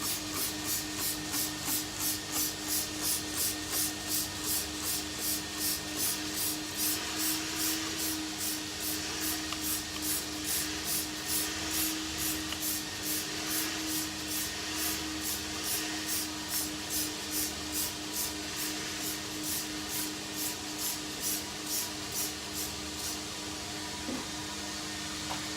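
Foaming cleaner is sprayed onto tires and wheels in rapid, rhythmic hissing bursts that repeat steadily for the whole stretch, close and moderately loud with no talking.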